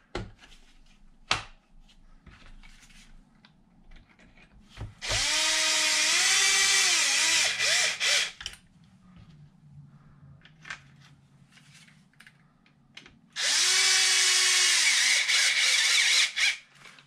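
A power driver runs twice in close succession, each burst about three seconds with a rising then steady whine, as screws go into the bumper of a Traxxas XRT RC truck; quiet handling clicks fill the gaps.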